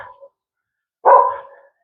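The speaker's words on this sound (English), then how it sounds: "Doggies." A dog gives a single clear bark at close range, preceded by a brief fainter yip at the very start, with silence between the two sounds and no talking.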